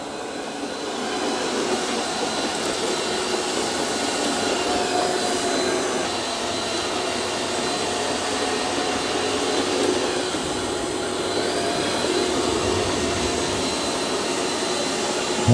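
A Eufy X10 Pro Omni robot vacuum and mop runs over a rug, giving a steady, close whirring suction drone with a brushy hiss that holds level throughout, with no talking.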